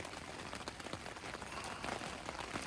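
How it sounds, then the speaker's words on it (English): Steady rain falls outdoors on day two of a backpacking loop trip, producing continuous dense pattering on surfaces with no lulls, fairly faint and unbroken by speech. "It's been raining for about 12 hours."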